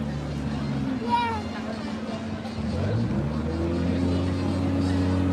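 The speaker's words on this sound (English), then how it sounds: "I love to hear that motor trumble when they come in the dock" Boat motor at the Tom Sawyer's Island dock, a low steady rumble rising slightly as the craft comes in, heard amid crowd chatter and nearby voices.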